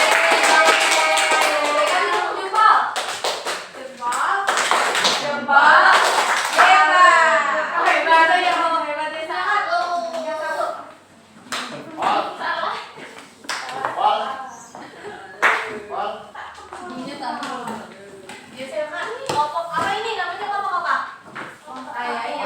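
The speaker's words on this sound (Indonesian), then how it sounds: "Beri tepuk tangan" Children in an elementary school science class clapping in scattered bursts mixed with lively kids' voices and chatter, close and fairly loud throughout.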